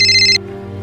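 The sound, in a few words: telephone ringing with an incoming call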